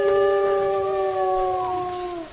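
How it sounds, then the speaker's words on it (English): A wolf puppy in the video game WolfQuest lets out a single steady howl that holds one clear tone, loud and close, and tapers off slightly at the end with no talk over it. "One of the puppies howled."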